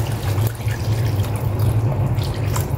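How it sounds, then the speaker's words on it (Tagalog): Water is poured into a cooking pan of fish in a home kitchen, giving a steady splashing trickle close by, with a low hum underneath and no talking. "Now, dagdagan natin ng tubig."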